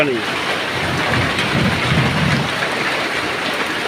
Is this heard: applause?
no